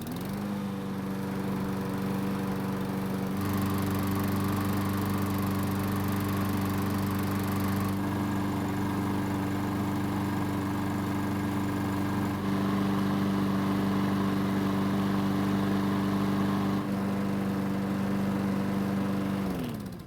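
A Troy-Bilt lawn mower engine runs steadily after a fuel leak repair, droning alone at an even, constant pitch with slight shifts in tone over about twenty seconds.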